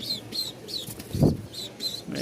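Racing pigeons, high-flying Giribaj and a red-marked chick, coo and chirp in short repeated calls, with a soft flutter of wings partway through and faint talk in the background.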